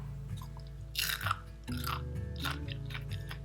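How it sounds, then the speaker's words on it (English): Close, crisp crunching of dehydrated salt and vinegar cucumber chips being bitten and chewed, with several sharp crackling bursts over steady low background hum. "let me show you how crunchy they are"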